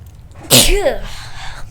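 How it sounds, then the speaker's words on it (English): One loud, sharp sneeze close to the microphone, a sudden burst followed by a brief voiced tail over quiet background noise. "I had to sneeze."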